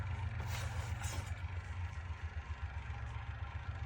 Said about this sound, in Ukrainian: Включаємо твердомір.